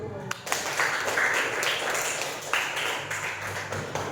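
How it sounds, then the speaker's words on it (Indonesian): Classroom clapping rings out during a teaching lesson, a lively group applause with some sharper individual claps. Voices can be heard mixed in throughout. "Tepuk tangan dulu."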